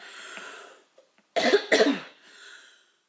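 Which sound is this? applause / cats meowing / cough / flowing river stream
cough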